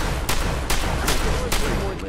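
Gun in the video game Fallout 4 fires four evenly spaced shots, sharp loud bursts over a dense continuous background.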